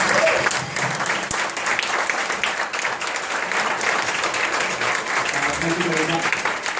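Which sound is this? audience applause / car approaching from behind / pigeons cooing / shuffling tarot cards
audience applause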